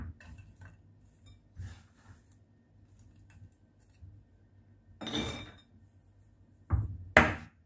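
Walnuts chopped with a knife on a board for brownies: scattered faint taps and knocks, then a few louder, sharper chops and clatters near the end, without talk.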